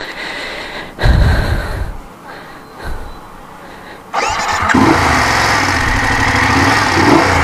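A BMW 750 motorcycle engine catches with a sudden burst, blips and dips for a few seconds, then settles into a loud, steady close-up running drone as the rider pulls away.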